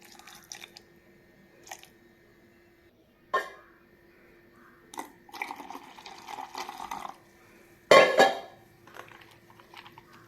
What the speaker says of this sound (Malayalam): ഇച്ചിരി കൂടി വെള്ളം ഒഴിക്കുക.